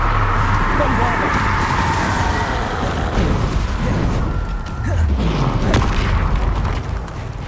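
Bombarda blast spell explosions in Hogwarts Legacy, a loud game mix of rumbling booms and mechanical clatter layered over sustained battle noise, with spoken spell incantations.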